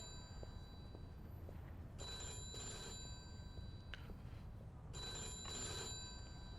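Old-style telephone bell in the video game Mafia II rings in two long bursts over a low background hum, loud and close with no talk.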